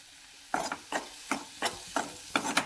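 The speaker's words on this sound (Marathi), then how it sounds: "परत हे असं छान असं परतून द्यायचं याच्यात" Boiled drumstick pods stir-fried in a pan, a spatula scraping through them in six quick, evenly spaced strokes over a faint sizzle, close by and fairly clear.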